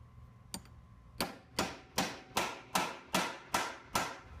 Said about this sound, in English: Then I use a hammer to drive the shank onto the tenon.